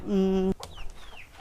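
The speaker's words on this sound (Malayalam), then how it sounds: "കോഴികളെ വിട്ടിട്ടില്ല പപ്പു ചോറ് തട്ടിക്കളഞ്ഞിട്ടുണ്ട് അല്ലേ" A chicken at a home coop gives one loud, close, drawn-out squawking cluck, followed by fainter scattered clucks and rustling.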